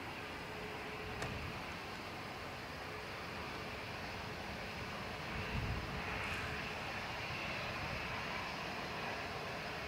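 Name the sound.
Challenger 650 jet aircraft engine at Dublin Airport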